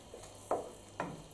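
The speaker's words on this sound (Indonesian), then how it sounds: "Kita aduk ya." A spoon stirs mushroom risotto in a pot with two soft scraping strokes over a low sizzle, close and quiet.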